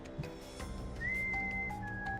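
A movie scene has a single person whistling that draws a mother into a barn, a faint sustained tone that rises and then steps down, heard alone over quiet background.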